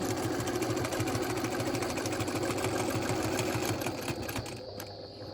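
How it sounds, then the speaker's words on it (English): A sewing machine stitches in a free-motion quilting pass guided by a ruler, a close, rapid, steady mechanical hum with a dense needle rhythm that tapers slightly at the end, with no speech. "Take a stitch and away you go."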